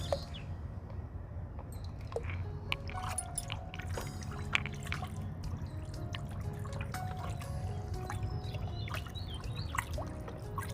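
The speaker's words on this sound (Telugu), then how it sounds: "ఇందులోకి మనము ఈ ఎగ్ ఆయిల్ని యాడ్ చేద్దాము" Egg oil emulsion is poured into 20 litres of water for an organic terrace-garden pesticide, giving a steady close trickle and splash with scattered drips and small splashes throughout, with no talking.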